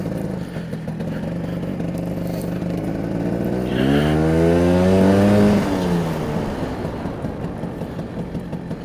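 A Vespa GS 150 scooter fitted with a P200E engine rides down a road, its two-stroke engine rising steeply in pitch as it accelerates, then falling back to a steady run, loud and close.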